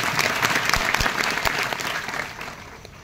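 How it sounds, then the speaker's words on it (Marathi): Crowd at a live Marathi kirtan clapping for the performer, brisk dense applause with a few sharp individual claps, tapering off toward the end. "महाराजांकरता एकदा सर्वांनी टाळ्या वाजवा."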